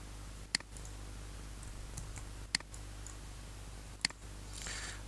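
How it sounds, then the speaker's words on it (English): Three sharp, isolated computer mouse clicks for a right-click and copy, spaced about two seconds apart over a low steady room hum. "Right click and then select copy."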